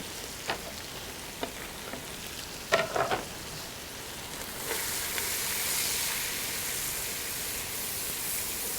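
Chopped onion fries in a pan and is stirred. A few soft scraping knocks come first, then a steady, moderate sizzle swells and holds to the end, with no voices.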